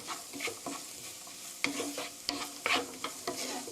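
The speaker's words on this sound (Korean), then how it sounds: "마늘, 갈릭, 어니언, 양파 넣어주세요. 이렇게 볶아주시고요." Chopped garlic and onion stir-frying in a pan over medium heat, a soft sizzle broken by scraping stirs and sharp clicks of a utensil against the pan, fairly quiet with no talk.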